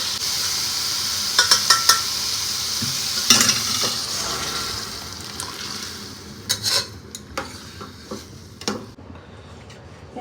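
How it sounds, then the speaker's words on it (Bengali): Cooked dal poured into a pan of sizzling tomato tempering, a loud hissing burst followed by clinks and scrapes of a spoon against the pan as the sizzle dies down. "এবার ডালটা জাস্ট এর মধ্যে ঢেলে দেবো"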